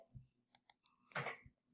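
A short burst of keyboard clicks, several quick taps followed by a cluster of louder keystrokes, close and fairly quiet.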